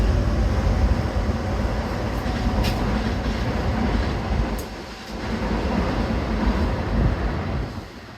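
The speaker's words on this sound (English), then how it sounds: "that goes an express train barreling through" An express train roars steadily through a station at speed at night, a dense rumble with faint rail clatter, swelling and dipping slightly before easing off at the end.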